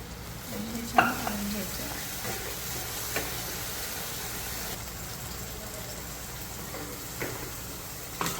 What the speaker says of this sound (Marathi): ग्रेव्ही ऑलमोस्ट रेडी आहे आणि त्यामध्ये आपण थोडं दूध टाकणार आहे.